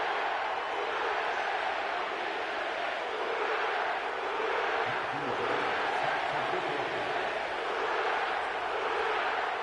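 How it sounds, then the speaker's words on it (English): In an EA Sports football video game, a crowd fills the Caesars Superdome in New Orleans with a steady, dense roar that stays level and unbroken throughout. "The crowd is definitely ready."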